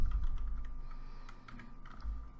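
A username being typed on a computer keyboard: a quick run of light, close key taps over a low steady hum, with no speech.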